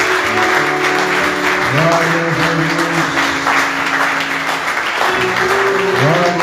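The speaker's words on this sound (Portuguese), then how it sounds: "Louva o Senhor com as tuas palmas." A church congregation claps in praise during worship, a steady wash of hands running throughout while a preacher speaks over it and sung or sustained voices carry on beneath.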